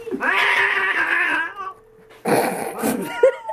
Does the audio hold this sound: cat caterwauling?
yes